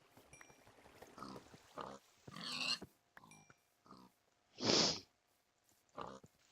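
A pig grunts and snorts in a video game, in several short bursts separated by quiet gaps, and one louder oink stands out near the middle.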